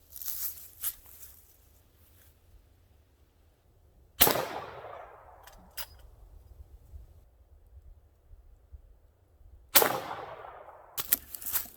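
Two sharp gunshots from a Winchester 1892 rifle chambered in 45 Colt, fired outdoors about five seconds apart. Each crack rings out loudly and trails off in a long echoing decay over quiet background rustle.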